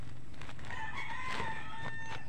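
A backyard rooster crows once in a clear, drawn-out call, fairly close, over quiet farmyard background with no talking.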